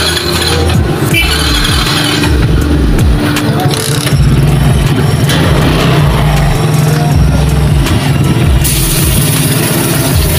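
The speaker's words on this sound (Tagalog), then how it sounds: "One click na yung motor. Hindi na siya hard starting." A motorcycle engine, converted to a 4-pin CDI with full-wave charging and running on a somewhat weak battery, runs at a loud, close, steady idle throughout with a rough, even mechanical churn and no talking.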